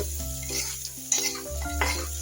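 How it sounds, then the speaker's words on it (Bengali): Carrot being stir-fried with onion, turmeric and spices in a pan for a meat dish, a steady close sizzle with scraping stirs of a spoon against the pan, and no talk. "এখন মশলাটার সঙ্গে পেঁয়াজের সঙ্গে গাজরটা কষিয়ে নিই এই ভাজা ভাজা করে নিই"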